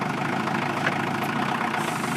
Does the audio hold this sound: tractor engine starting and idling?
yes